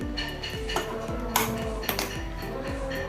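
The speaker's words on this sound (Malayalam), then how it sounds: "ഇനി അടപ്പ് വെച്ച് കൊടുക്കാം" A metal lid set onto a cooking pot on a kitchen stove while sweet pumpkin ada is being made: a few clear metallic clinks and rattles with ringing tones, close and fairly quiet.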